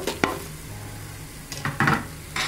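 Coconut, tamarind, ginger and shallots frying in a pan for Andhra-style stuffed brinjal fry, with a few scraping stirs over a low, steady sizzle and no talking.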